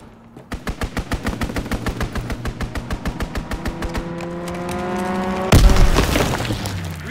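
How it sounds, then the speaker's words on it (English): Strafing-run gunfire in Call of Duty: WWII multiplayer: a long, evenly spaced burst of heavy rapid shots, followed by a loud impact boom and a rumbling tail. "Strafing run inbound."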